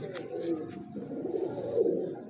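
Kalu Baloch breed pigeons cooing softly in a loft, low throaty coos overlapping under someone talking nearby.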